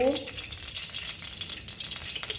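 Vegetables for veg Hakka noodles fry in cooking oil with a steady, crackling high hiss that runs throughout, with a brief voice at the very start.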